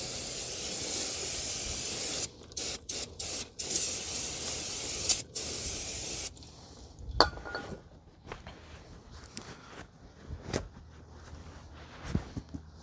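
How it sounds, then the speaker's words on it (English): Aerosol brake cleaner sprayed onto the rear drum brake of a 2017 Toyota Corolla 1.8, giving loud, sharp hissing bursts in several short pulses, followed by quieter clinks and handling noises. "Spray some brake cleaner to clean all of the dirt and debris"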